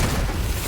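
A deep, rumbling boom fills a short moment in Borderlands 3, loud and dense, with no clear onset. The blast sounds like part of a continuous stream of in-game explosions.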